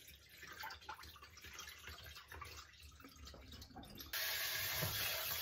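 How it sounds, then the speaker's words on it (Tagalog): Bracken fronds (warabi) being rinsed by hand in water, sloshing and swirling with splashes, then a tap suddenly running in a strong steady stream near the end. "Hugasan po natin ng ilang beses hanggang sa luminaw po yung tubig po niya."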